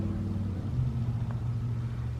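A tuned LSA-engined Sierra truck making over 600 hp runs on a dyno, a deep, steady engine rumble that swells slightly midway, fairly quiet and with no voices.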